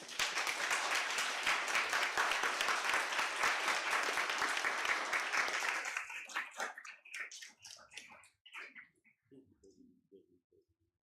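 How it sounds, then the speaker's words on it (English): Conference audience applauding loudly for about six seconds, a dense wash of many hands clapping, then thinning to scattered claps and murmured voices as it dies away. "To clap to all of you."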